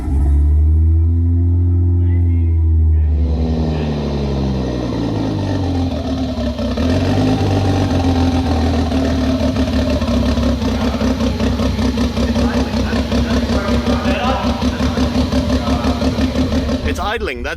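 A Mk3 Toyota Supra engine starts and settles into a rough, burbling idle on three cylinders, with a brief rev early on, loud and close, while people talk over it.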